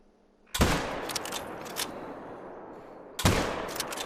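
Two loud close rifle shots fired at a buck while hunting, each a sharp crack followed by a long rumbling echo, about two and a half seconds apart.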